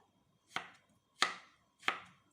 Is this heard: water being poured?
no